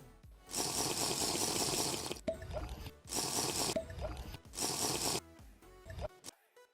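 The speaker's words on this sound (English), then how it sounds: "Just pour some water, some nice cool water." Cool water poured into a container while making mead, coming in three separate gushing bursts with short gaps, each followed by light drips and a squishy slosh, close by.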